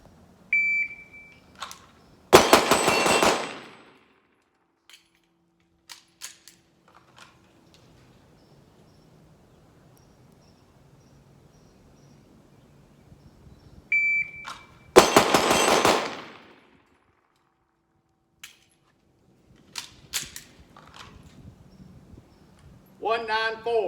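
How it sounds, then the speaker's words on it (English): A Staccato C DUO pistol fired at an outdoor range, each short timer beep followed by a loud, rapid string of shots, with two such bursts separated by long quiet gaps and faint sounds between. "let's move around a little bit, and I'm going to show you some other shooting"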